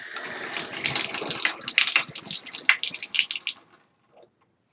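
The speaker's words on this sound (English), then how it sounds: "See if we get a water flow coming out." Water rushes from a Moen tub/shower faucet fitted with a 1222 cartridge. A loud, close gush splashes and sputters for a few seconds, then cuts off abruptly, leaving one last drip.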